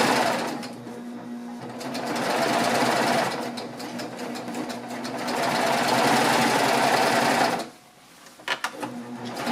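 Serger stitching piping onto a pillowcase, a fast mechanical whirring run that pauses briefly, resumes steadily, then stops near the end with a few short taps.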